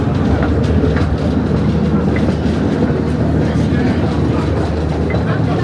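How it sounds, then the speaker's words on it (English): A monorail train runs past at Blackpool Pleasure Beach on opening day, a loud continuous rumble with rhythmic clickety-clack from the wheels, close by amid crowd noise. "Oh, the monorail's going to"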